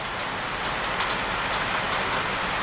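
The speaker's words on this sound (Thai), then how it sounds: "ฝนตก" Steady rain pours down evenly, a dense broadband hiss with faint patters, continuous and close throughout, no voices.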